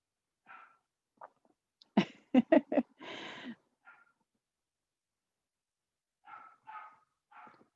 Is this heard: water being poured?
no